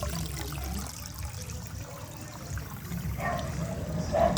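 Floodwater near a provincial capitol building in Sagbayan spurts and flows with nowhere to drain, giving a steady rushing, trickling wash that swells slightly near the end, with no voices over it.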